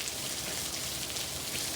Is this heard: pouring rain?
yes